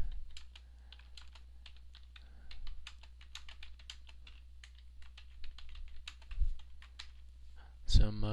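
Data is typed on a computer keyboard for a trim balancing program, a series of light, rapid key clicks in uneven bursts, close and fairly quiet, ending with a louder knock.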